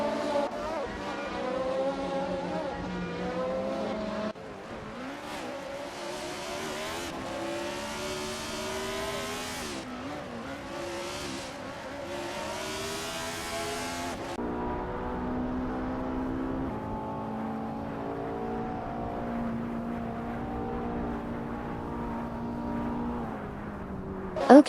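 A 2005 Radical SR8 race car's V8 engine in a racing video game, a sustained harmonic drone that climbs and shifts pitch through gear changes, joined by other cars' layered engine tones, with commentary over it.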